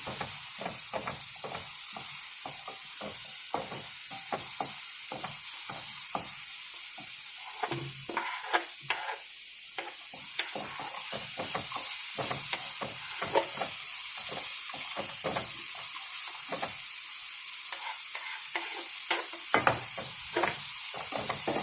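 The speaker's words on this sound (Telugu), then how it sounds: "కొద్దిగా ఉడికిన తర్వాత క్యాప్సికం, క్యాబేజ్ వేసి 2 కలుపులు" Capsicum and cabbage stir-fried in a pan for red sauce pasta, a steady close sizzle broken by frequent quick scraping and tossing strokes of a spoon against the pan, no voices.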